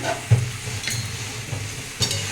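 Malabar spinach seeds frying with chili powder in a pan, a steady sizzle with periodic scraping stirs of a spatula, close and alone with no talking.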